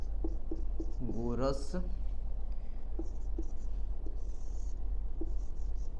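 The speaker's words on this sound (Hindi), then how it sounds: "चलिए यहाँ पे लिखते हैं पाइथागोरस" Pen or chalk scratches out the Pythagoras theorem by hand in short strokes over a low steady hum, with a brief stretch of speech near the start.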